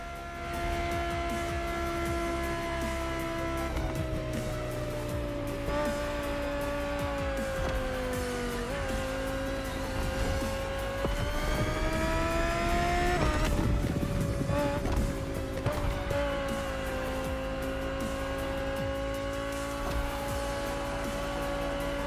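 A 2020 Audi R8 LMS GT2 racing car in The Crew Motorfest drives with a loud, steady engine note that rises and falls through gear changes, with brief tire squeal in the middle.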